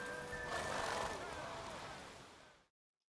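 Roach, a horse in The Witcher 3 video game, gives a single loud whinny that trails off and ends abruptly in silence.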